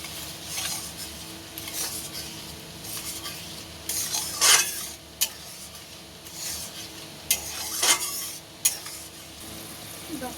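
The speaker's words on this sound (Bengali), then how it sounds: "এবার এতে কাজু আর চারমগজ একসাথে বেটে দিয়ে দেব। এবার ভালো করে কষিয়ে নেব।" A spice paste with ground cashew and melon seeds is sautéed in a pan, giving a faint low sizzle under intermittent scraping and rubbing stirs, with a few sharp spoon clinks against the vessel.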